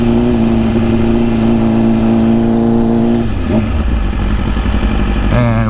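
Loud, close motorcycle engine revving steadily while the bike is ridden, with the pitch dropping partway through and climbing again near the end.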